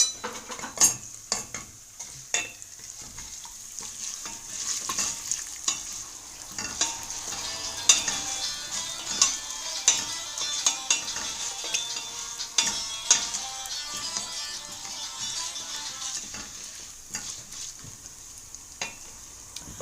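Vermicelli roasts in oil in a pan, a spoon scraping and clinking repeatedly against the metal over a continuous sizzle, close and fairly loud, with no talk.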